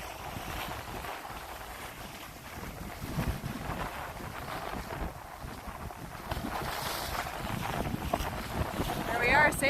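Wind noise rushes steadily across the microphone aboard a sailboat under way, mixed with water washing along the hull, growing louder toward the end.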